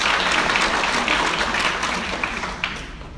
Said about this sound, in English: She deserves a tremendous round of applause.